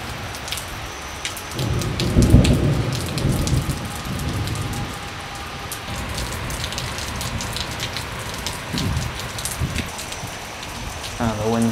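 Rain falls steadily during a thunderstorm while deep rumbles of thunder roll through, loudest early on, with a voice speaking briefly.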